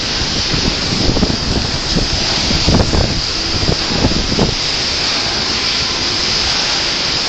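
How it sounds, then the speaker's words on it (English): Strong wind buffets an outdoor microphone at a vigil beside a highway, a loud, continuous roaring rush with heavier low gusts thumping through the first half. "the wind is getting to be too strong for me"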